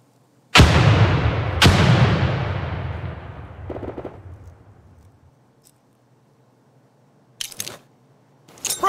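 Two loud grenade blasts a second apart in America's Army 3, each with a long rumbling decay, followed by sharper distant bangs near the end.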